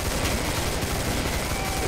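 A Tommy gun fires in the co-op shooter game Killing Floor, a dense, loud, continuous burst of rapid automatic gunfire lasting throughout with no clear break.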